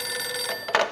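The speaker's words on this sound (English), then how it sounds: "Detective Winterson's phone." A detective's desk telephone rings in the video game Max Payne 2, giving one short, fairly quiet electronic ring burst over a faint steady background tone.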